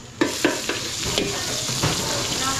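Onions sautéing in a pan during a catering cook in Porac, Pampanga, giving a steady loud sizzle with a few sharp stirring knocks against the pan.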